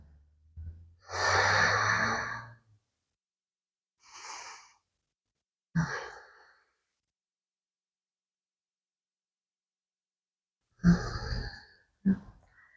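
Slow, deliberate yoga breathing while holding a pose: a long audible exhale, then a few softer breaths and sharp nasal inhales spaced seconds apart, close and quiet with silence between.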